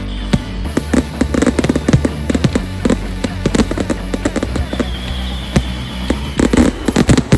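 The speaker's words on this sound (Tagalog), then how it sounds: "So pagkatapos nun, nagkaroon ng fireworks." Birthday fireworks at Sylvan Lake pop and crackle in rapid, irregular bursts, some loud close bangs among a steady stream of smaller explosions, heard outdoors at night.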